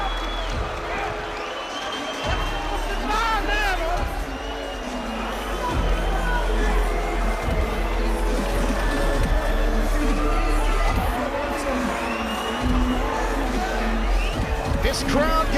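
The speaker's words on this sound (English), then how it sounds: "This crowd going into absolute ecstasy, Ken." An MMA event crowd erupts in sustained cheering and shouting after the fight ends by tapout, a dense, loud roar filling the arena throughout, with excited voices rising above it.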